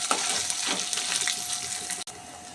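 Freshly hand-pounded coarse paste frying in a pan gives a steady, close sizzle with soft crackles and occasional stirring scrapes, broken by one brief dropout near the end.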